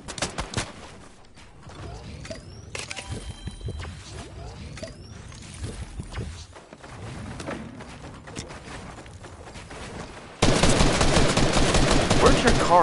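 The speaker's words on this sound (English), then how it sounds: "I'm getting sniped at." Sniper fire in the Fortnite video game: sharp gunshot bursts and mechanical clatter from the game, with a louder, denser stretch of firing near the end.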